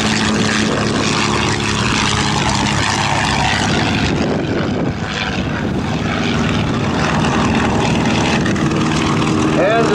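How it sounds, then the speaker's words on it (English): A Fairchild PT-19 trainer plane with a Ranger engine takes off at an airshow, a loud, continuous propeller and engine roar filling the whole stretch. "very similar to the PT-19 with the Ranger engine that's taking off right now"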